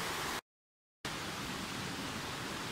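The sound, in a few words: flowing river heard from a distance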